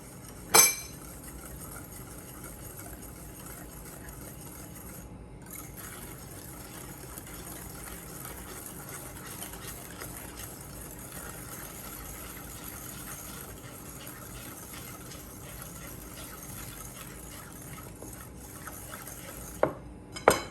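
Cocoa powder stirred into chocolate cake batter in a bowl at home, with steady soft scraping and occasional light clinks of a utensil against the bowl, with no talking.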